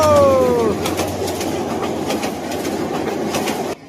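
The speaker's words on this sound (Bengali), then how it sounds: "আর একটা ট্রেন আসতেছে ওদিক থেকে" A Bangladeshi local train passes on the railway, opening with a brief high horn blast, then steady rhythmic clattering of wheels on track, close and fairly loud, with a bird calling faintly.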